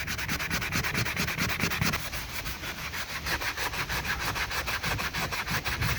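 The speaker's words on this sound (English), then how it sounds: "You got to sand some of this down." Hand sanding of a wooden axe handle with sandpaper, a loud close rhythmic back-and-forth rasping in fast even strokes that continues throughout without speech.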